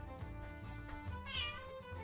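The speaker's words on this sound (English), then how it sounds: "Yeah, the cats woke up." A housecat meows in a drawn-out, wavering call over a low background hum, close and fairly quiet.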